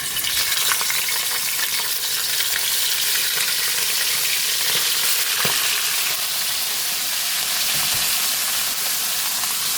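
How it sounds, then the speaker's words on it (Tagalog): Fish frying in hot oil in a pan, a steady, dense sizzle with crackling pops running loud and unbroken throughout, with no voices. "Piprito na tayo ng isda."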